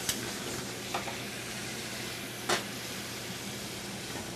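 A pan sizzles steadily as it is deglazed with white wine and scraped for a scallop sauce, a constant close hiss broken by a few brief scraping bursts, with no talking.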